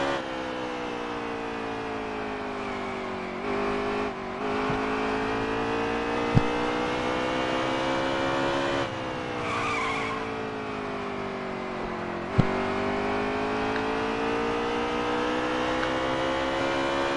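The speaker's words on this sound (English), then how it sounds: "final pit stops here at Bristol with a little over 40 laps to go" Race cars run steadily through the pits at Bristol during the final pit stops of a cup race, with a continuous droning engine note, a few brief sharp pops, and no talking.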